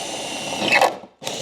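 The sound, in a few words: drilling through tailgate layers with 7-8 mm drill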